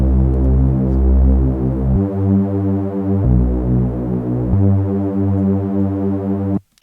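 A deep, buzzy synth bass made in FL Studio plays a repeating pattern of sustained notes, changing pitch every second or so, loud and alone before stopping abruptly.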